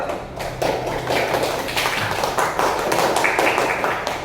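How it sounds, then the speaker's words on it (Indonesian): Classroom students clapping for a classmate called up to the front, a dense steady patter of many hands filling the whole stretch, fairly close and loud. "Tepuk tangan buat Ridho."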